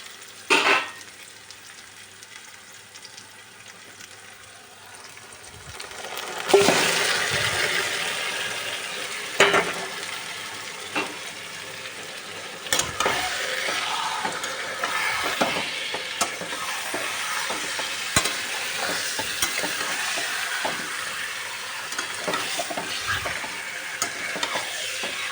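Marinated chicken dropped into fried onions in a pan gives a sudden loud burst of sizzling, which then holds steady as a spoon scrapes and stirs with occasional sharp clinks.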